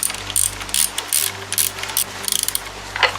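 Rapid ratchet clicks in short bursts with pauses come from tightening the clamp on the control cable rollers of a Mercury Classic Fifty outboard motor, close and crisp.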